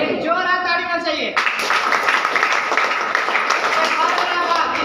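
A meeting audience bursts into loud, sustained applause and clapping that runs on steadily after a brief bit of speech at the start.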